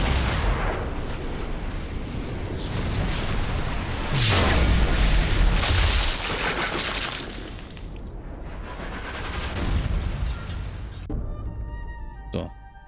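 A fuel canister exploding after being shot in the video game Sniper Elite 4, a loud booming blast with rumbling, crackling aftermath and debris, followed by quieter game ambience and a faint tonal effect.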